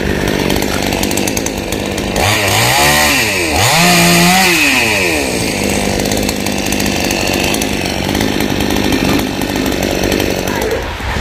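A chainsaw cuts the upper branches off a tall tree in a Mekong Delta orchard, engine revving up and down loudly and continuously throughout, with a brief voice near the start.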